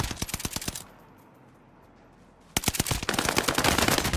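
Rapid automatic gunfire in the Call of Duty: Vanguard video game, loud dense bursts of shots, a brief muffled lull, then another sustained stretch of fast firing.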